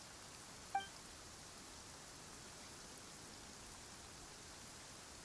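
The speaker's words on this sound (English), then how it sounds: "He is just out here in the rain." Steady rain in Genshin Impact hisses evenly and softly throughout, broken once by a brief faint chime near the start.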